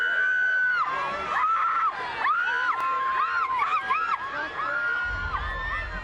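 Fans scream and shriek continuously at a Harry Potter film premiere red carpet in July 2011, a loud, dense crowd roar with overlapping high-pitched cries and no clear pauses.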